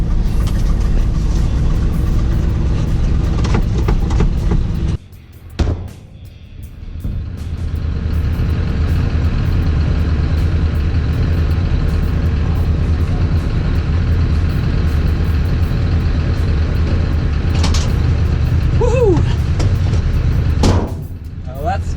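A 1967 Ford F250 camper special truck engine runs with a steady low rumble and drone that briefly drops out, then continues, while people talk over it.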